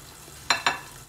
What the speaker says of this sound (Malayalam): ബാക്കിയുള്ളതും കൂടി ഇതാ ഇതുപോലെ ഫ്രൈ ചെയ്ത് എടുക്കുക